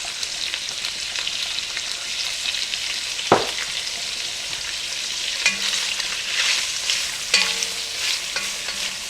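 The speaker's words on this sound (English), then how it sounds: "What we're looking for is the brown, crispy sausage, and then we want our peppers and our onions to be nice and soft" Sausage, peppers and onions fry in a single pot, a steady close sizzle broken by a sharp clatter of stirring and occasional scraping clinks, moderately loud.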